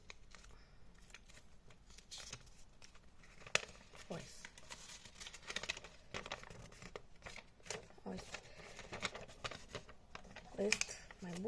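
Sheets of notebook paper crinkle, rustle and unfold as a handwritten letter is opened, close and soft, with small crisp crackles scattered throughout.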